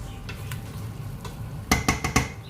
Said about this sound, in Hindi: अब मैं इसको अच्छी तरह भूनूंगी